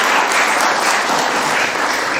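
A municipal borough council in Paris's 6th arrondissement applauds the mayor, steady dense clapping from a room of people filling the whole moment at an even loudness.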